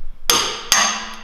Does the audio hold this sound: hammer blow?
yes